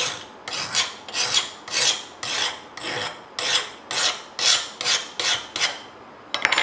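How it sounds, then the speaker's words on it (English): A metal file is drawn along a workpiece held parallel to the workbench to make a straight flat edge, producing about a dozen evenly spaced, close, gritty rasping strokes with brief pauses between them and no talking. "take a file and give myself a nice straight flat edge"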